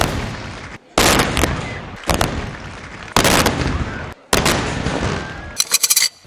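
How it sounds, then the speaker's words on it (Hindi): Cannon salute fires at a national day ceremony in Islamabad, Pakistan: a series of heavy booming blasts, each rolling out before the next, loud and reverberant across open ground. "दिन का आगाज़ इस्लामाबाद में 31 तोपों की सलामी से हुआ।"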